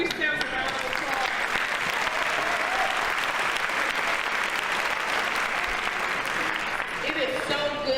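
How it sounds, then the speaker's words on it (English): Staff at a hospital convocation day applaud themselves: a thick, continuous round of clapping filling the room, loud and even throughout, with faint voices and a few cheers mixed in. "Give yourselves a round of applause."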